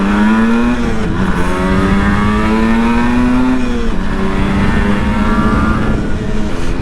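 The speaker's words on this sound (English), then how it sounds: "It's a classic motorcycle." A classic Yamaha RD 250 two-stroke motorcycle engine runs close and loud, a steady buzzing note that rises and dips slightly in pitch as the throttle shifts.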